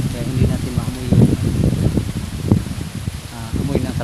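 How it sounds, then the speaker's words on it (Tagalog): Strong wind gusting through leaves outdoors, a steady broadband rustle and whoosh that swells and eases throughout, heard beneath someone talking close to the microphone. "saka sobrang lakas pa ng hangin"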